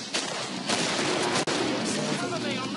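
Shotgun blasts and surrounding gunfire in the co-op shooter Killing Floor, a loud dense barrage with sharp repeated reports over nearly three seconds.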